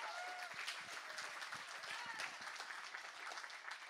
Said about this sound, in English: Give a round of applause for all these folks.